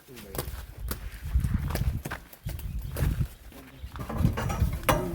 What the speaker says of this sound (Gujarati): આ ઘોડી છે લાલ બાવરી અને આ વછેરો છે